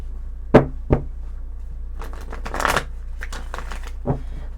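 A deck of tarot cards is shuffled in a few quick, crisp riffles and taps, close and clear, with brief pauses between bursts and no talking.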